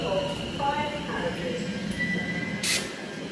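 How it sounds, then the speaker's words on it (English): Interior of a Class 230 train heading to Shenfield, a steady broadband rumble of the carriage running throughout with faint tonal whines and a brief hiss burst near the end, people talking under the ride noise. "so here on the train, I'll take this train here to Shenfield"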